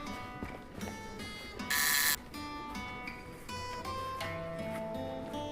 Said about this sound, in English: A buzzer.